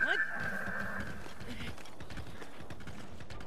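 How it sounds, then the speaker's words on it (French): A demonic horse in Zelda: Breath of the Wild gives a sharp, rising whinny at the start, followed by low rumbling game ambience and a continuous background texture. "Un cheval démoniaque ?"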